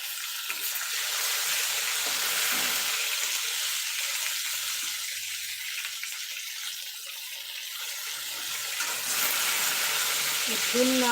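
Masala brinjal curry frying in a pan, a steady broadband sizzle that holds for the whole stretch with faint clinks, swelling slightly near the end.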